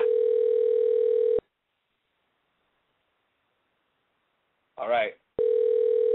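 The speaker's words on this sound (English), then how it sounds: "Oh, we're ringing. The line is not busy now." A telephone line rings during a call-in radio show: a loud, steady electronic ring tone cuts off, a gap of silence follows, then a brief voice speaks before the ring resumes.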